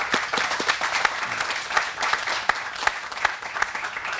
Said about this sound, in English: you and your staff, a big round of applause